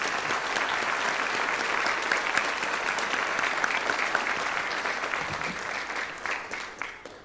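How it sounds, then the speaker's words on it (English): An audience at an elementary school moving-up ceremony applauds teachers, a sustained wash of dense clapping holding steady for several seconds before tapering slightly at the end. "Big round of applause to them."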